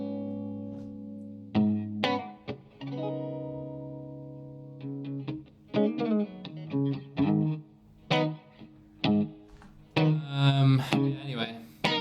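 Pitched-up electric guitar fed through an Arturia spring reverb plays a loose run of plucked notes and chords, sustained tones at first, then choppier repeated strums with washy, slightly warbling reverb tails.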